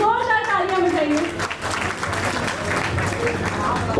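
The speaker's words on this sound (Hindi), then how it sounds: "छोटी सी बच्ची के लिए जोरदार तालियां बजाइए।" An audience at a creator event in Kichha, Uttarakhand, claps loudly and steadily for a little girl, dense applause filling the hall while an announcer's voice rises over the start.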